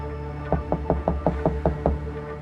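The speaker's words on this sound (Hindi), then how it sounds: "तभी दरवाजे पर दस्तक हुई।" A hotel room door in a horror story takes a run of eight evenly spaced knocks, close and distinct, over a low droning background with no speech.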